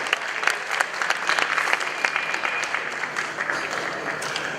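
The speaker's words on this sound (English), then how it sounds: "Shall we say thank you to the band with applause?" An awards-ceremony audience at the Ghana Journalists Association media awards applauds the band with steady, dense clapping that holds at an even level for several seconds without breaks.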